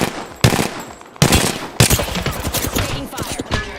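Bursts of automatic gunfire in a video game come as three loud, sharp volleys, each followed by rapid, rattling shots, with the later volley running longer.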